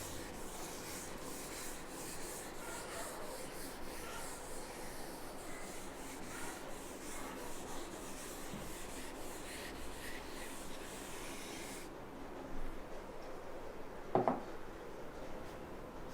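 A board being rubbed to erase it during a maths lesson: a steady, faint scrubbing and rasping that runs for about twelve seconds, then a quieter stretch broken by a couple of brief knocks.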